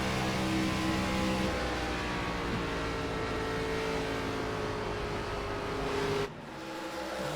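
ARCA stock cars race at Auto Club Speedway, a loud steady engine roar that holds for about six seconds, then drops suddenly to a quieter rumble near the end.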